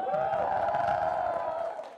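Audience at a theatre festival event with Sooraj Pancholi and Ayushmann Khurrana cheers and whoops in a sustained, full roar with some clapping, tailing off at the end.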